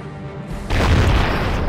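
A cannon is destroyed in the Settlers: Heritage of Kings strategy game, a sudden loud booming explosion that bursts in and holds as a heavy rumbling roar.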